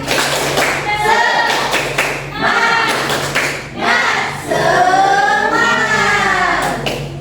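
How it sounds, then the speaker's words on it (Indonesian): Students in a classroom doing a rhythmic cheer clap, sharp claps in patterned bursts alongside loud group chanting that carries the rhythm. "kita tepuk semangat dulu yuk"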